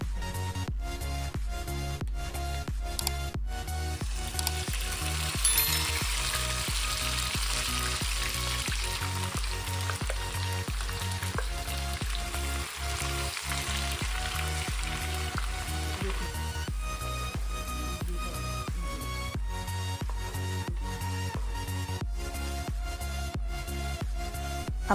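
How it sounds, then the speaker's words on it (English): Blended Ghanaian shito ingredients fry in hot oil in a large pan, giving a steady sizzle under rhythmic background music throughout. "I'm gonna heat up some oil in a large pan and toss my blended ingredients right into it."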